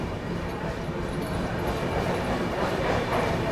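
The Farakka Express pulls out of Dildarnagar Junction station after a two-minute stop, heard from the last coach as a steady, close rail rumble and clatter that builds slightly, with faint voices in the background.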